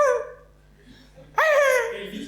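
A performer on an improv theatre stage imitates a dog barking like a turkey, giving a short warbling vocal call, a pause, then a louder, strained gobbling yelp that tapers off.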